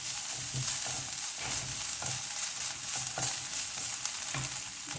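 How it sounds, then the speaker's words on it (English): Kasuri methi sizzles and is stirred in a pan with onions and ginger garlic paste for a tomato paneer dish, a steady loud frying crackle with rhythmic scraping strokes throughout. "Now is the time when you add kasuri methi and slightly saute it."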